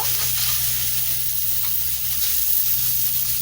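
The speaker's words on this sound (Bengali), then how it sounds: "এখানে মাছটা ভাজা হচ্ছে" Fish sizzles steadily in hot oil, a continuous bright crackling hiss up close with no talking.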